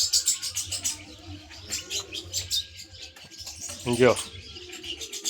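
Morning birdsong from birds perched in a gundi tree in a village yard: bright, overlapping chirps and tweets continue throughout, with a person speaking close by over the birds.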